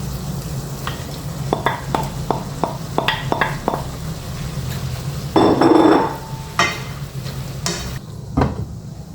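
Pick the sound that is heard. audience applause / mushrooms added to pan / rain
mushrooms added to pan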